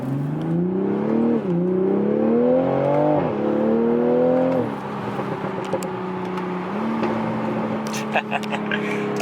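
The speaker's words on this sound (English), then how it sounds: "So we'll do a quick acceleration just to see if I hear any differences in engine sound." A 2020 Toyota Supra with a B58 engine and upgraded charge pipe accelerates through several gears. The steady engine drone climbs in pitch, dips at each shift, then settles into an even cruise.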